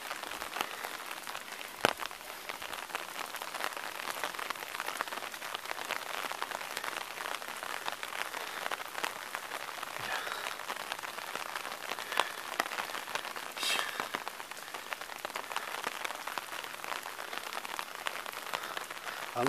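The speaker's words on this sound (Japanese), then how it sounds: "ちょっと雨がね、まだ降ってるんやけど。" Steady rain falls at a Japanese temple near its main hall, a dense, even hiss of drops hitting surfaces with a few sharper patters, continuous and moderately loud with no voices.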